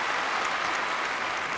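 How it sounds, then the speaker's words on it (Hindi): Steady, dense applause from a game-show studio audience, a continuous wash of many hands clapping at fairly loud volume. "जोरदार तालियां एवरीबॉडी।"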